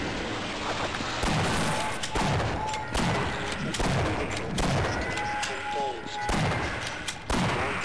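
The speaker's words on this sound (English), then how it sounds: "Trying to shoot him without shooting the barrel" Gunfire in Half-Life, a run of loud, sharp shots and booming thuds spaced irregularly, with heavy impacts amid game noise.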